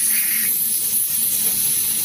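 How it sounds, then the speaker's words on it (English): Steady, close hiss of mass airflow sensor cleaner sprayed from an aerosol can onto a car's mass airflow sensor, a continuous spray running unbroken and alone for about two seconds. "Okay, so I am going to spray."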